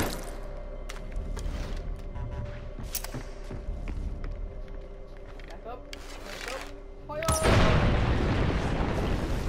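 A Far Cry 4 explosion bursts out after several seconds of quieter game ambience and intermittent thuds, a sudden broadband boom that lingers as a rumbling wash, with players' voices talking during the clip.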